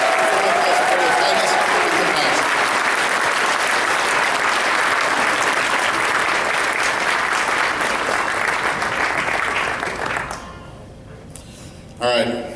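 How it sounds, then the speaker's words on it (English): Sustained, loud audience applause at a convention opening ceremony, steady for about ten seconds before thinning out, with a brief swell of clapping near the end. "Please give another round of applause for Ms."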